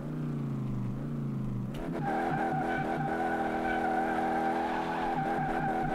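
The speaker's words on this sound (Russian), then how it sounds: "Вот это да, обороты очень быстро взлетают." An Audi RS6 engine in Car Mechanic Simulator revs hard, its tone climbing quickly and holding a loud, steady high-rpm whine close up, without talk.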